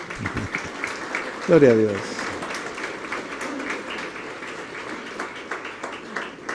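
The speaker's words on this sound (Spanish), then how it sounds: "Fuerte un aplauso al Señor." Church congregation applauds, steady clapping running beneath a voice that speaks and calls out over it.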